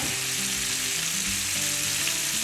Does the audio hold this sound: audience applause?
no